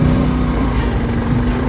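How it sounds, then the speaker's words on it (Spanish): A small motorcycle engine strains uphill in a private hillside area on Isla Margarita, Venezuela, with a steady buzzing drone held close and loud for the whole stretch, no voices over it. "Mira cómo sube esta moto."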